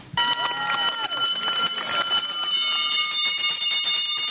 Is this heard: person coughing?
no